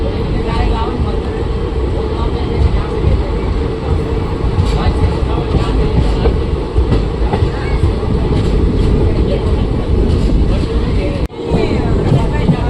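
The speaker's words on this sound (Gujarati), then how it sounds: "આપણી ટ્રેન ઉપડી ગઈ છે ફાઇનલી જેતપુરથી" A passenger train pulling out of Jetpur railway station, a steady broadband rumble of carriages rolling under continuous speech, with a brief dropout near the end.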